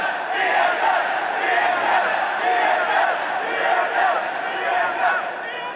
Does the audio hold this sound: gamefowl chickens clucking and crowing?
no